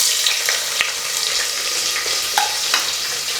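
Long-sliced onion frying in ghee in a pressure cooker for a bottle gourd vegetable biryani: a dense, steady sizzle close up, with a few light spatula clicks.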